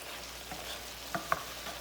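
Soft, steady sizzle of squash frying in a pan, with a couple of brief stirring clinks and scrapes partway through.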